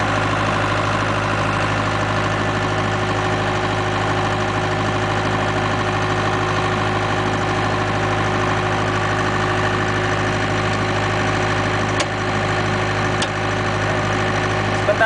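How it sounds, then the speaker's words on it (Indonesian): A Multipro SDG 30000 AS generator engine idles with a steady, droning hum and constant low vibration, close and unchanging for the whole stretch, broken only by two faint clicks near the end. "Sebentar lagi genset ini akan mati"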